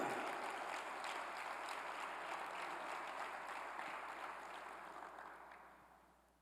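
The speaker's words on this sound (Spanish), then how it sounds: "Vamos a darle al Señor un fuerte aplauso esta tarde." Church congregation applauding for the Lord at an evening service, a steady dense wash of clapping that holds for several seconds and then gradually fades out, with no talk over it.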